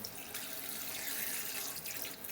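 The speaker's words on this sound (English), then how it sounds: "Get your hands a rinse, and then just rinse out the sink of all bits" Water runs from a sink tap while hands are rinsed after gutting horse mackerel, a steady close hiss and splash with slight shifts as the hands move under the stream.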